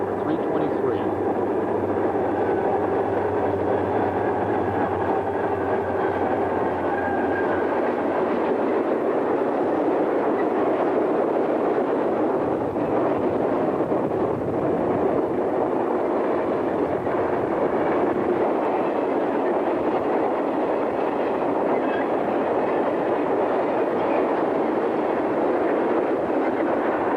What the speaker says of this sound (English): Boston and Maine GP 40, number 339, leads Delaware and Hudson GP 39-2, number 374, Springfield Terminal SD 45 684, and B&M GP 40, number 323.